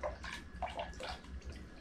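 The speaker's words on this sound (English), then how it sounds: "Give this a quick little rinse down and clean." Water splashing and running over a fish tank filter part as it is rinsed, a soft continuous wash with light gurgles, fairly faint and close.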